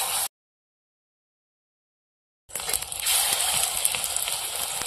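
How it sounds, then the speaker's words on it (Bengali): Pumpkin flower fritters coated in gram flour batter frying in hot oil, a steady soft sizzle that starts after a brief silence and continues evenly. "এবার ফুলগুলো বড়া ভেজে নেবো।"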